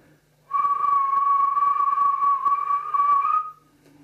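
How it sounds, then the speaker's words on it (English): A single loud, steady whistle blast is held for about three seconds, then stops abruptly. "Went the whistle again."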